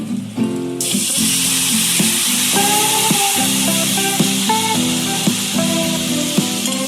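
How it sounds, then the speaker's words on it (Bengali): Hot water splashes onto sizzling vegetables, raw banana for a Bengali fish curry, in a hot pan. A sudden loud hiss bursts up and then settles into steady close bubbling, with clinks and scraping under it and no talking. "আমি এখন জলটা দিয়ে দেবো, জল গরম হয়ে গেছে।"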